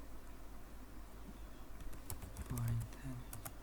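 Computer keyboard being typed on at a quiet desk, with scattered key taps under a low room hum and a brief voice murmur.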